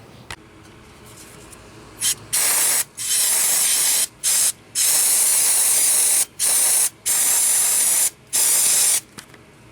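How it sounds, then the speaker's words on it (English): Brake cleaner sprayed onto rear brake parts of a 2016 Ford Fusion, a series of loud hissing aerosol bursts, about eight in a row of varying length separated by brief pauses, with no voices. "spray it with the brake clean"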